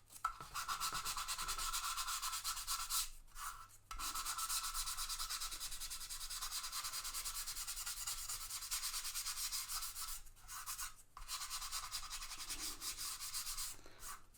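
Close, steady scratchy rubbing of a sanding sponge on primer on a Monogram B-25 model kit, in long continuous strokes, broken by a few brief pauses.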